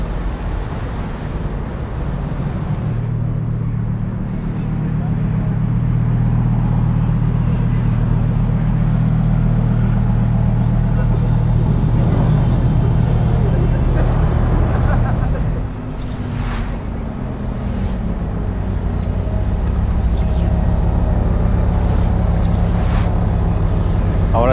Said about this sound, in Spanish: Miren el Lamborghini Gallardo que va llegando, haciendo una simulación